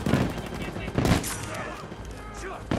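Spas-12 shotgun fire in the Battlefield 2042 video game, with heavy booming blasts at the start, near the one-second mark and again at the end, over a dense layer of game noise.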